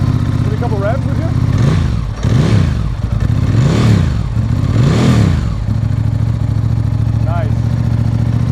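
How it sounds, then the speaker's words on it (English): A cold classic motorcycle engine idles loudly up close and is blipped in four short, gentle revs before settling back to a steady idle, with a brief voice heard near the start and end. "Give me a couple revs, would you?"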